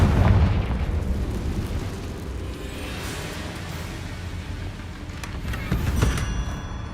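A Confringo blasting spell goes off in Hogwarts Legacy, a booming explosion at the start that settles into a sustained rumble, with another loud burst near the end.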